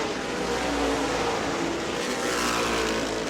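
Modified race cars pack the New Smyrna track in a steady, loud, continuous engine roar that swells slightly as the field passes, with no voices.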